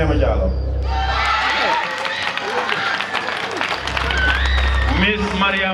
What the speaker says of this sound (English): please give her a round of applause, please